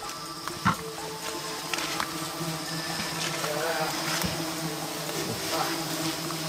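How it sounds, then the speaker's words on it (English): Dense, continuous buzzing of many bees swarming all around during a Tualang honey harvest, close and persistent, with occasional soft knocks and rustles. "the bees are definitely swarming now"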